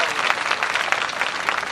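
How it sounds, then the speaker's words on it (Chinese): A dense burst of audience applause from a crowd at a political rally in Kaohsiung, steady and loud for its whole short length with no voices standing out. "我还没说鼓掌，各位就鼓掌了"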